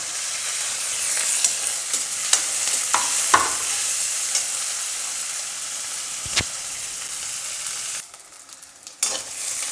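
Curry leaves and onions go into hot oil for prawn gravy and set off a strong, continuous sizzle and hiss, with scraping stirs and a couple of sharp knocks against the pan, and no talking.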